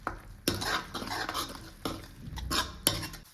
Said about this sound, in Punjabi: ਥੋੜਾ ਜਿਹਾ ਪਾਣੀ ਪਾ ਕੇ ਭੁੰਨ ਲਾਂਗੇ ਮਸਾਲੇ ਨੂੰ